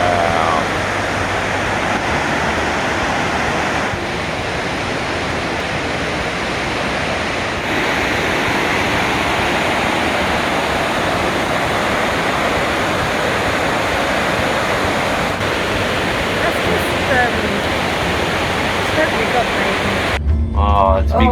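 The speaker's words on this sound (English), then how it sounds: "so you can get off and appreciate these falls a little bit more closely" Steady, broadband roar of a rainforest waterfall heard up close from a cable car midway station, loud and continuous throughout, cutting off abruptly at the very end.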